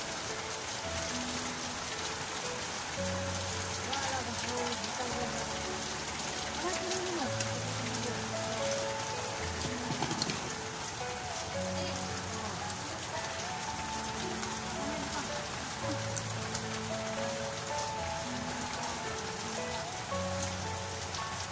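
Heavy rain drums on a roof and leaks through it indoors, dripping steadily in a dense, continuous patter with repeated plinking drops throughout.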